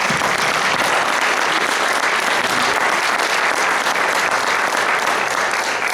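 An indoor audience applauds, a full, sustained wash of many hands clapping at once. It stays loud and even for the whole stretch, with no voices standing out above it.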